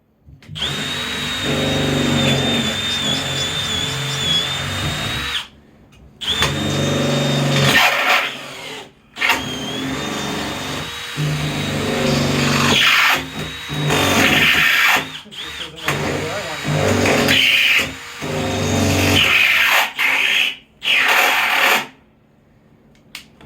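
Power drill driving screws into wood during construction of a hut, whirring in repeated bursts with short pauses between, loud and close.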